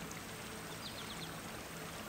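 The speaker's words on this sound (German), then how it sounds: "So auf der Seite schaut er auf das Wasser, das aus der Quelle fließt." Water flowing from a spring, a soft continuous trickling stream, quiet and even throughout, with no voices.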